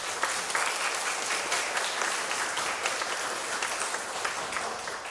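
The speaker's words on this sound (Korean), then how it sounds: "박수로 환영했으면 좋겠습니다" A church congregation at a Sunday worship service claps to welcome a visiting member, a soft, steady patter of many hands sustained for several seconds in a reverberant hall.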